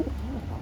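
Kalanka pigeons cooing inside a loft, a low soft continuous coo close by with faint background noise.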